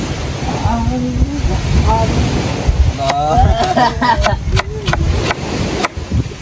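Steady wind and surf roar at the shore, with people talking over the rushing water and gusts buffeting the microphone.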